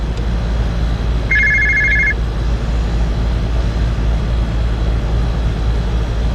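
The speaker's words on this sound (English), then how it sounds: "My phone won't stop ringing." A telephone bell rings in one short burst beside a refrigeration condenser unit being charged with MO99 (R438A) refrigerant, over a steady loud mechanical hum from the unit and its surroundings.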